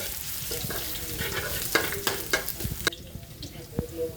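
Pounded bamboo shoot paste stir-fried in hot oil, a close wet sizzle broken by sharp spatula scrapes and clacks against the pan, busiest in the middle, then quieter frying with an occasional stir.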